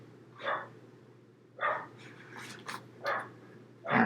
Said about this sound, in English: a bunch of dogs.